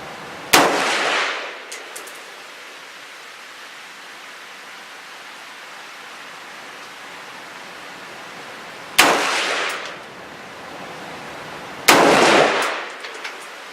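Three sharp, loud rifle shots from a Bear Creek Arsenal Bear Essential firing 5.56 ammunition outdoors, the first well apart from the last two, each followed by a short echoing decay.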